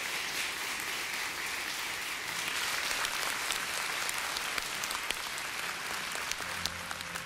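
A studio audience at a Tony Robbins coaching event applauds loudly and steadily, a dense wash of clapping with scattered cheers that holds for about seven seconds without talk.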